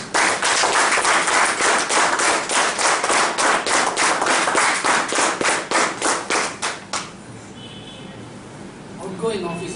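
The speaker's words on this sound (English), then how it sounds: "Please join me in a round of applause for our outgoing club officers." An audience at a Toastmasters club officers' ceremony gives a round of applause, a loud, steady run of close hand claps lasting about seven seconds before dying away, followed by faint talk.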